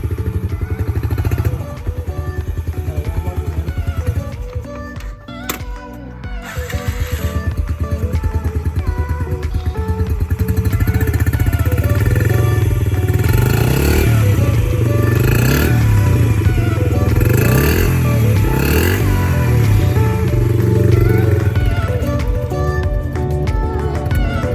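A Yamaha TTR50 dirt bike engine runs, idling and then revving steadily as it is ridden nearby, a loud continuous buzzy drone rising and falling in pitch, with a brief clatter near the start.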